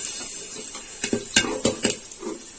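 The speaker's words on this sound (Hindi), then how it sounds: "इसमें फूटने की आवाज आने लगी है" Several sharp pops and clinks ring out irregularly against metal as kernels burst inside a closed pressure cooker, over a faint steady hiss.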